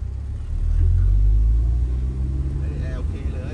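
Toyota AE92 with a 2ZZ engine revving up, a loud low rumble that swells and then settles back to idle, with people talking over it.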